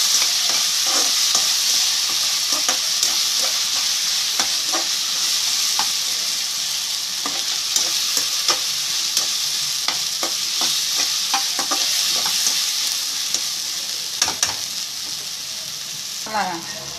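Potato biryani masala with ginger paste is stirred in a hot pan, an even bright sizzle with frequent ladle taps and scrapes against the metal, close and steady throughout.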